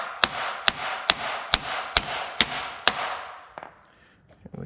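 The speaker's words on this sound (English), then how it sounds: "we can tap it in" A hammer taps a slip yoke and u-joint into place on a Mach 1 driveshaft, giving seven sharp, evenly spaced metallic strikes close up, followed by a few fainter knocks and shuffling.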